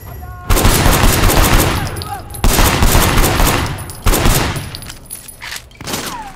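Enemy shotgun fire in the PC game Sleeping Dogs: three loud, booming blasts spaced about two seconds apart, each followed by a short decaying tail over ongoing game noise.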